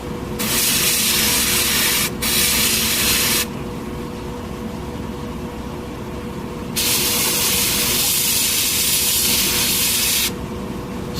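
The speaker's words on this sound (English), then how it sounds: "Get a really controlled spray pattern" Harder & Steenbeck Infinity CR+ airbrush with a .15 tip spraying paint in short controlled bursts, several loud steady hissing blasts of a few seconds each, separated by quieter pauses with faint background hum.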